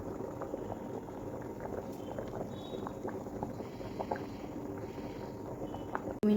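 Rice and chandramukhi potatoes simmer together in a pot on a gas stove, a low continuous bubbling hiss with faint pops, steady and moderately close, with no talk.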